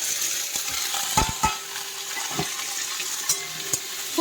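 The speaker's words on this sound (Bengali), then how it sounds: "তেজপাতা, দিয়ে দেবো একটু পেঁয়াজ।" Onion and bay leaf frying in oil for a bottle gourd dish, with a steady close sizzle broken by a few sharp scrapes and knocks of stirring, no voices.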